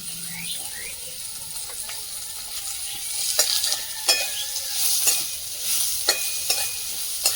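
Onion goes into hot oil in a home kitchen pan before greens are fried, giving a bright sizzle that builds, with repeated scraping stirs and sharp crackles close by.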